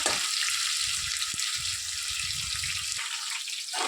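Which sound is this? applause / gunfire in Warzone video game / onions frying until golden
onions frying until golden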